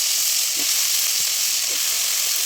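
Eggplant hisses and sizzles in a frying pan over spiced oil with turmeric, chili and salt. The frying is a bright, steady hiss close up, with a few soft stirring knocks and no talk.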